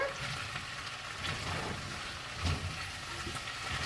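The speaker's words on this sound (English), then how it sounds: "So I'm going to give this another stir." Ham, potato and garlic frying in a pan for a frittata, a steady close sizzle with soft scraping as the mix is stirred, one brief knock near the middle.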